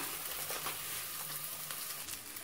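Coriander leaves and mint sizzling in a hot pan as they start to cook, a soft continuous crackle heard close and steady without any voices.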